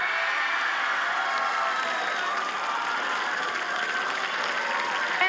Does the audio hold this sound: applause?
yes